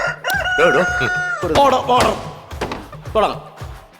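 A rooster crows loudly and close by in one long rising and wavering call, followed by people talking and a few thumps.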